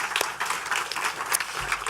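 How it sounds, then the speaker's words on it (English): A round of applause at a meeting held in a museum hall, many hands clapping in a moderate, uneven patter that carries on briefly without talk. "So another round of applause for them."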